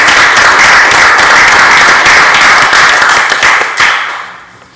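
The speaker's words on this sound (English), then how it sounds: "So we can give her a round of applause." Applause at a school district board meeting: dense, loud clapping from many hands that holds steady, then thins out and fades near the end.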